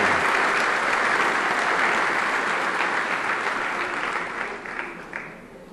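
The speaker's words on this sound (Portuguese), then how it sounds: "uma salva de palmas para o Juan" A church congregation gives a warm round of applause for a young boy named Juan, dense clapping starting at full strength and gradually tapering off near the end.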